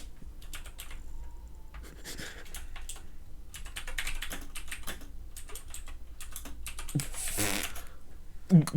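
Typing on a computer keyboard during a livestream, quick clustered key clicks in uneven bursts, close and fairly loud, with brief voices and other noises mixed in.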